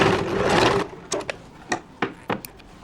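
Electric sewing machine running a short burst of stitching along an inskirt hem, followed by a few sharp clicks and knocks of handling the fabric, close and alone.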